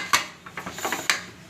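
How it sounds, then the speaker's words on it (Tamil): Pressure cooker lid being closed while making sweet pongal, a few scattered metallic clanks and scrapes, with one sharp clack near the start and another near the end, close by with no talk. "குக்கர் மூடி"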